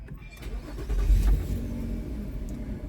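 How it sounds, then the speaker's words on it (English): A Nissan engine cranks and starts up close, giving a brief rising roar that settles into a steady idle hum, with nobody speaking. "But Lou, I'm gonna start the car, okay?"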